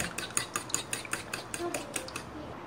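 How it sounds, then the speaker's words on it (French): Quiche filling with crème fraîche being stirred in a bowl, a quick series of close clinks and scrapes of utensil against the bowl, fairly clear with no talking. "Je mélange."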